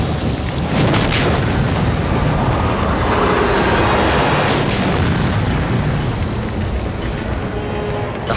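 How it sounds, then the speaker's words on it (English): Cinder cone volcano erupting and hurling lava bombs and boulder-sized fragments: a loud, continuous roaring rumble with repeated booming bursts, dense and sustained throughout with no voices. "Cinder cone launches a bombardment of boulder-sized lava fragments and a barrage of lava bombs."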